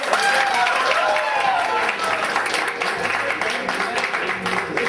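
Applause from an audience at a bank orientation cultural program, a steady wash of clapping mixed with crowd noise and voices, moderately loud and continuous.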